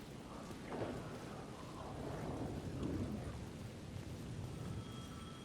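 Steady rain falls over a rainy New York City street in the video game Alan Wake II, with low thunder rumbling beneath a constant, faint wash of noise.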